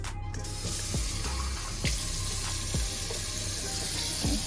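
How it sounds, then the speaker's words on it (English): Water runs from a tap into a cooking mixture of parsley and garlic, a steady close splashing rush with a few sharp clinks and stirring knocks, no voices. "Add a little bit of water in this."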